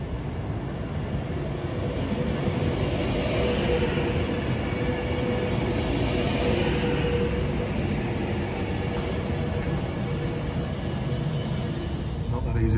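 A train runs along curving track on the approach to Stafford, giving a steady broadband rumble and rolling noise that stays loud and close throughout.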